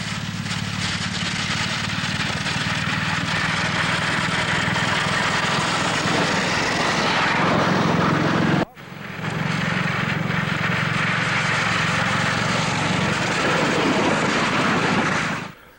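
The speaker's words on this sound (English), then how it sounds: "The noise you hear is the ice breaking." A loud, continuous grinding roar of ice breaking under a live steam model railway snow plow, with a rumbling engine drone persisting throughout, briefly dropping out once before resuming at the same intensity.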